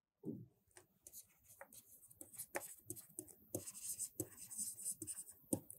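Writing strokes on a board during a mathematics lecture on permutations, quiet, close scratching taps in irregular bursts, with no talking over them.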